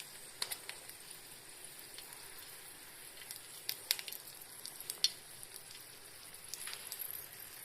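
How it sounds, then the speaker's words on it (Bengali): Three dried red chillies frying in hot white oil, a faint, soft sizzle broken by scattered small crackles and pops. "মধ্যে হোয়াইট অয়েলটা দিয়ে দিলাম, দিয়ে 3টে শুকনো লঙ্কা দিয়ে দিলাম।"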